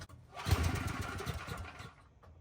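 A generator engine is cranked and fails to start, giving one short burst of sputtering, chugging turnover that dies away within about two seconds, close and fairly quiet.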